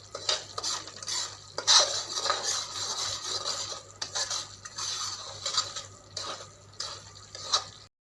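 A spoon stirs semolina roasting with crushed cardamom in a pan for halwa, giving continuous close scraping and clinking of metal against the pan, irregular but steady, moderately loud with no voices.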